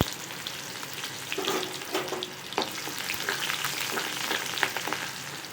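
Urad dal, cumin and onion frying in hot oil for a Chettinad banana fry: a continuous crackling sizzle with small pops and a few stirring scrapes, close and moderately loud, with no voices.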